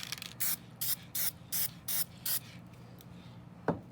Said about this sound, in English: this crystal clear coating that we can spray on